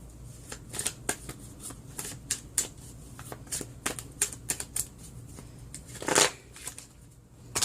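Tarot cards shuffled close up, with a run of quick riffling bursts and soft flicks in an irregular rhythm. A longer, louder riffle comes near the end, and there is no talking.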